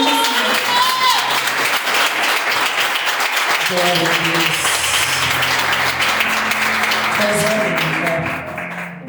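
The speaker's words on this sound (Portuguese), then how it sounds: "as palmas vão para Senhor" A church congregation applauds during a sermon, a dense, steady wash of clapping that holds through most of the stretch and eases slightly at the end, with a voice speaking over it.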